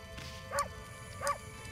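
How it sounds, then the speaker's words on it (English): Two short barks from a wolf in the video game Okami, evenly spaced about half a second apart, moderately loud over a steady game background with no talk. "Oh yeah, I forgot I could, like, bark."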